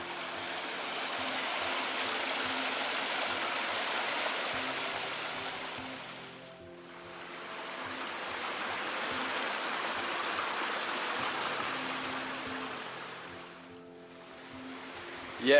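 Cascading stream water tumbling down from the Black Hill into the Olchon brook in the Black Mountains, a steady broadband rush that dips briefly twice before swelling back, with no voices over it.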